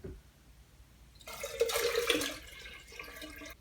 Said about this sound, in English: Now you can pour out the water